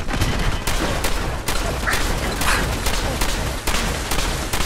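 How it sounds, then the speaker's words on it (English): Dense, continuous gunfire from hostile enemies in Fallout 4, loud and sustained with sharp shots repeating throughout and no pauses. "you're shooting at me now?"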